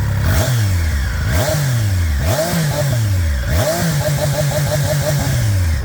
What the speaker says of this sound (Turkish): Sesini dinletmediğimi hatırladım. Onu sizlere bir dinleteyim. de bu şekilde gaz veriyorum.